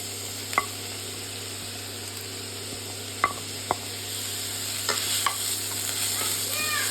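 Onions sizzle gently in a pan with a steady soft crackle and a low hum in the background, a few sharp clicks of stirring scattered through.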